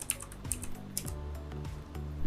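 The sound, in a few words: typing on a computer keyboard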